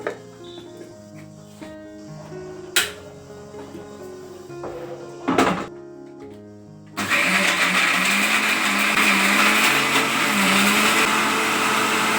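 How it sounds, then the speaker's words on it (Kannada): A mixer grinder blends brinjal masala with a little water for vangibath, roaring loud and steady for about five seconds after a stretch of quiet kitchen clatter and a couple of sharp knocks. "ಇವಾಗ ಇದಿಷ್ಟು ಮಿಕ್ಸಿ ಮಾಡ್ಕೋಬೇಕು ನಾನು"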